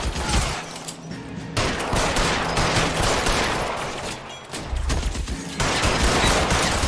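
Gunfire in the video game L.A. Noire: a dense, continuous fusillade of rapid shots and bursts, loud and sustained, with bursts overlapping across the whole stretch.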